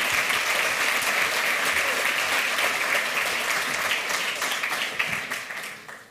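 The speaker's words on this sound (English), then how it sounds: "Please give them a warm round of applause." A conference hall audience gives a warm round of applause for two speakers at a hacker congress talk. The clapping is loud and dense and holds steady, then starts to fade near the end.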